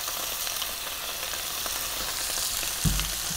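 Onion and garlic ginger paste frying in a pan for paneer curry, a dense, steady hiss and crackle close by, ending with a brief knock near the end.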